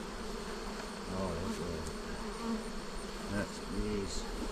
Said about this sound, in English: that's bees.